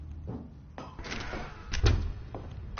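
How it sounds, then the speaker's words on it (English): A door in The Stanley Parable video game, the large Mind Control Facility door, gives a few muffled thumps and a heavier thud as it moves, fairly quiet against a low room tone. "Stanley walked straight ahead through the large door that read Mind Control Facility."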